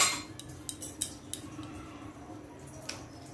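A utensil scrapes and taps against a bowl while eggless cake batter is folded together with soaked tutti frutti, giving soft irregular clinks and wet stirring sounds at close range.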